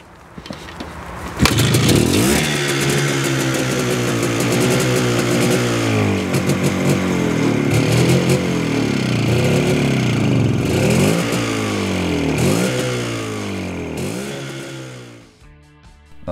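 A 1986 Cezet (CZ) 175 Model 487 motorcycle fires up and runs loud and close, its two-stroke engine revving up and down repeatedly in rising and falling sweeps before cutting off at the end.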